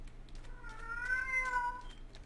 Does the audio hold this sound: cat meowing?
yes